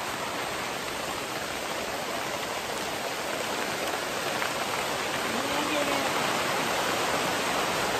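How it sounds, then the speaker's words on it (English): Steady, heavy rain hisses continuously against a window, a dense even patter that never lets up, at Rocky Springs Campground on the Natchez Trace Parkway. "I can't stand the rain. Against my window."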